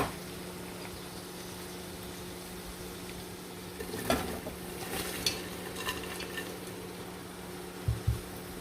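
Okra is stirred into onions in a pot for okra stew, with soft scraping and squishing from a spoon amid a faint sizzle and a low steady hum, the stirring coming in a few short bursts near the end.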